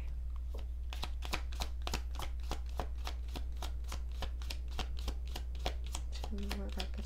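Tarot cards are shuffled by hand in a quick, steady run of crisp riffling slaps, close and clear, with brief speech near the end.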